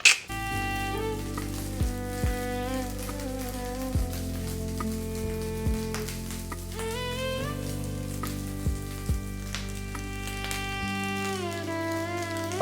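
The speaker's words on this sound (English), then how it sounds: "We really want to fry the rice now." Carrot rice sizzles steadily in a frying pan, a soft continuous crackle that sits beneath louder melodic background music.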